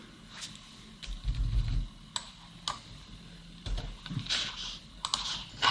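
Keys clack on a computer keyboard as a discount code is typed into an online checkout form, a few close bursts of taps separated by short pauses, with no talking.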